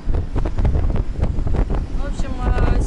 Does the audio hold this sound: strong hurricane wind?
yes